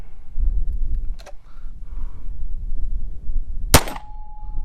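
A Glock 19 Gen5 MOS pistol with a Trijicon RMR sight fires at a 25-yard target on a shooting range; one sharp, loud, close crack stands out against low background rumble, followed by a faint lingering ring.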